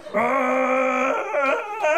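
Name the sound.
performer imitating a Wookie roar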